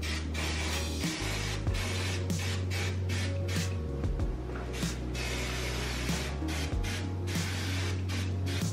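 An aerosol can of hairspray (a root retouch spray) hissing in a long, near-continuous close spray with brief pauses and small clicks of the nozzle, while a low hum runs underneath.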